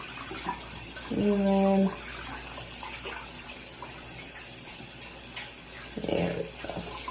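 Running tap water pours steadily as dirty hands are scrubbed clean with soap, with a brief voice speaking and some nearby handling noise partway through.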